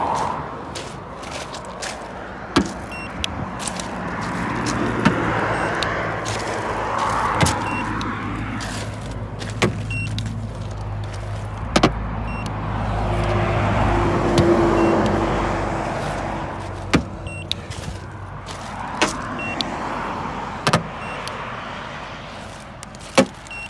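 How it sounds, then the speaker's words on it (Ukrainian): Steady roadside traffic noise with passing vehicles swelling and fading, plus scattered clicks and knocks close by at a lot beside the road; no talking. "Досить шумно, оскільки наша площадка знаходиться при дорозі."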